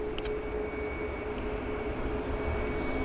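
An Air Canada Jazz airplane arriving at Vancouver Airport makes a faint, distant engine drone that stays low and even, with a steady whine running through it.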